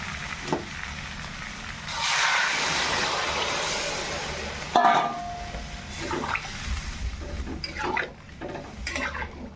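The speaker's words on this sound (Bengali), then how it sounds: "এবার আলুগুলো দেওয়া হয়ে গেছে, এবার জল দিয়ে দেবো" Water poured onto spiced potatoes frying in a pan, with a loud hissing sizzle, a sudden splash partway through, then lower bubbling and the clink of utensils.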